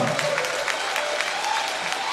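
Concert audience breaks into sustained, even applause, a dense wash of clapping from a large hall crowd with a brief voice underneath.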